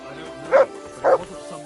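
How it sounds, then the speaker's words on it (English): Two short dog barks in Kingdom Come: Deliverance, a medieval role-playing game, spaced about half a second apart at moderate volume over a quiet game ambience. "Good doggy."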